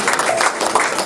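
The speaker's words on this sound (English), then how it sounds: "So big round of applause to the kids." An audience at a cultural center gathering applauds for children, a dense, steady wash of clapping filling the whole brief moment, loud and close.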